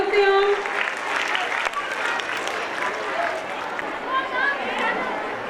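Audience applause at a school annual gathering, a sustained wash of clapping with cheering and voices mixed in throughout.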